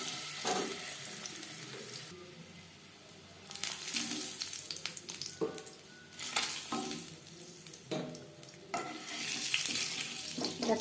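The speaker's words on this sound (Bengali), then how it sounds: "ডিম ভেজে নেব।" Eggs seasoned with salt and turmeric fry in a pan, a close sizzle broken by bursts of stirring and scraping that rise and fall over several seconds, with no one talking.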